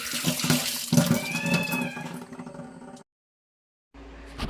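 Tap water running in a kitchen sink over pieces of frozen fish taken from the freezer, a steady splashing stream for about three seconds, then silence, then the flow resuming briefly.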